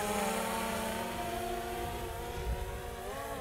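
Autel X-Star drone flying outdoors, a steady droning buzz of spinning propellers with a wavering pitch as it turns and returns, continuous and fairly close with no talk.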